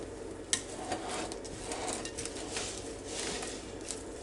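Chinese cabbage salad with almonds and sesame seeds is stirred in a bowl, a close, steady rustling and scraping with a few light knocks, quiet and continuous throughout.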